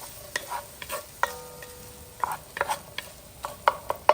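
Pimentos and chicken gizzards sauté with turmeric and curry in a pan, a soft sizzle broken by frequent sharp spoon clicks and scrapes as they are stirred, fairly close and with no talking.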